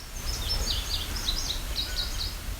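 An indigo bunting sings a series of high, sweet paired chirps along a wooded trail, repeating steadily with brief gaps over a low steady background rumble.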